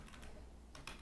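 Typing a terminal command on a computer keyboard, heard as a quiet patter of a few key taps in two small clusters, close and faint, with no talking.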